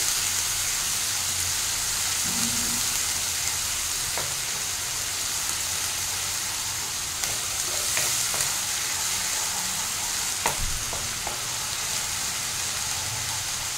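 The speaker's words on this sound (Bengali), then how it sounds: "তেলটা আমার ভালো মতো গরম হয়ে গেছে, আমি বাটা মশলাটা প্রথমে দিয়ে দিচ্ছি। এটা দেওয়ার সাথে সাথে ভালোভাবে কষাতে থাকতে হবে।" A ground spice paste hits hot oil in a pan and is stirred vigorously, a bright continuous sizzle with scattered pops and spoon scrapes against the pan, close and steady with no voices.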